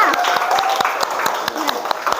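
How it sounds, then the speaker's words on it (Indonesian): A classroom of students claps for the winning quiz group, brisk scattered hand claps with a teacher's voice talking over them throughout. "tepuk tangan untuk kelompok 1, bener semua"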